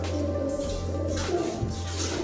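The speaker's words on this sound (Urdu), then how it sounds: "یہ ہے جی کبوتر، ماشاءاللہ بہت شاندار کبوتر ہے۔" A pigeon with colourful dyed feathers coos softly nearby in repeated low, throaty murmurs over a steady background hum, with no talking.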